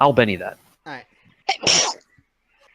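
A person sneezes once in a loud, sharp burst between stretches of nearby talk among tabletop game players.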